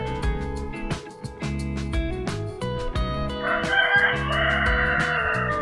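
Roosters crow loudly in long, overlapping calls on a rural farmstead, with hens clucking in between, close by and with no voices.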